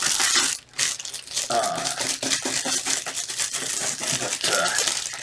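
Shears cutting and crinkling through plastic DVD packaging, a busy run of snipping, crackling and rustling clicks up close, with a short pause near the start.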